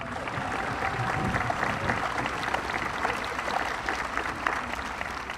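Steady applause from an audience greeting the band members as they stand and bow, a sustained even clapping throughout at moderate distance with no voices.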